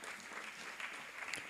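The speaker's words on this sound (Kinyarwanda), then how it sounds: "Abantu bakoma amashyi." A short burst of steady clapping from a crowd at a church sermon, even and continuous throughout.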